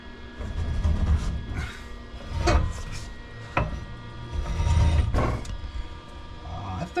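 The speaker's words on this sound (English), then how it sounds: "The noise you're hearing is the drive shaft rubbing on the mufflers." Mustang SN95 with a welded differential, turned over with the drive shaft rubbing on the mufflers: uneven scraping, grinding and knocking bursts under a low rumble, heard close.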